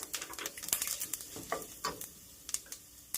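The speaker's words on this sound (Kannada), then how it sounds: "ಇವೆಲ್ಲ ಲೋ ಫ್ಲೇಮಲ್ಲಿ ಹುರ್ಕೋಬೇಕು" Fenugreek and cumin seeds roasting in oil over a low flame, stirred with a spoon: a close, crackling sizzle broken by repeated sharp scrapes and taps against the pan.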